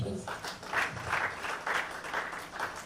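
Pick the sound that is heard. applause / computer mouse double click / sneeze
applause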